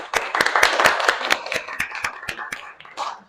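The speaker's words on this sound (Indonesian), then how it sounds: "Mari kita beri aplaus bersama-sama." Applause from students in a classroom after a group presentation, a burst of sharp hand claps with distinct loud individual claps standing out over a dense patter, fading slightly toward the end.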